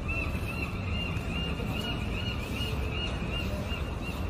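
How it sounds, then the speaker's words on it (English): Outdoors, birds honk over a dense, continuous wash of background noise, the calls repeating in a steady, fairly distant chorus with no voices over them. "You know what those birds are saying?"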